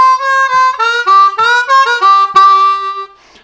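A bluesy lick on a C harmonica, bent reedy notes sliding and stepping through a short turnaround phrase, played close and loud before fading out.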